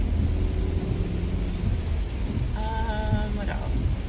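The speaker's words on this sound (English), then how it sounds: "it's really raining now" Heavy rain pours during a thunderstorm around a car on the road, a constant loud wash of drumming water, with a few brief tonal chirps near the end.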